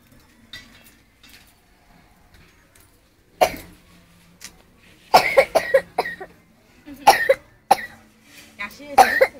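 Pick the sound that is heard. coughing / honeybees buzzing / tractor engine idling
coughing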